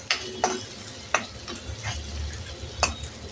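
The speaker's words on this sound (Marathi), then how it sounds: "एक बारीक चिरलेला टोमॅटो घाला आणि परतून घ्यायचं" Finely chopped tomato sautés in a pan, with a soft sizzle underneath and several sharp spoon scrapes and clinks against the pan at irregular intervals.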